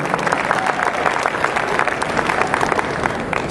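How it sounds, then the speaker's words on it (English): Sustained applause from an audience, a steady wash of many hands clapping at even loudness throughout. "We give him a round of applause."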